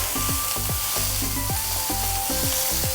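Prawns sizzle and brown in a hot pan, a dense, loud frying hiss with rhythmic scraping or stirring strokes repeating through the short stretch, no talking.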